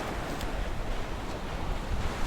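Steady wind buffets the microphone in a constant, rushing roar on a dry, windy New Zealand shore, with a surf-like wash underneath and no voices.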